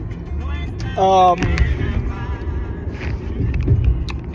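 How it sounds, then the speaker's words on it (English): A car drives along with a steady, low interior rumble and road noise throughout. A brief voice-like sound rises over it early on. "Now, I'm driving."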